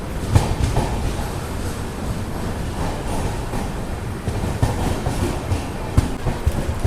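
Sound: Intercity express train arriving at Nalgonda

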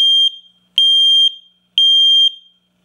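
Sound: Nest smoke detector alarm sounding during test

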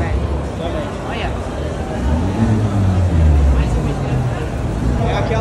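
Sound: expensive sports cars accelerating out of a shopping mall

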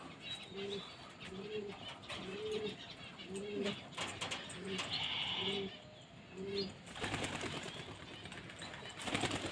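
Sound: pigeons cooing as they are released

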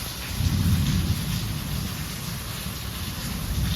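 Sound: heavy rain and thunder

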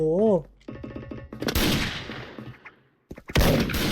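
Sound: sniper rifle gunfire in a shooting video game

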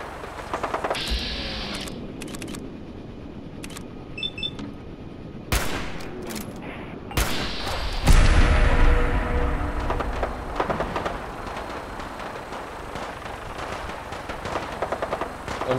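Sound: gunfire in the video game Fallout 4

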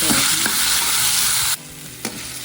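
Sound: sautéing tomatoes in a pan for prawn gravy

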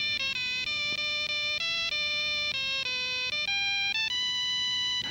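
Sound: Network chronograph watch alarm

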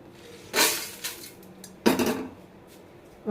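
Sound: roasted spices transferred into a metal vessel

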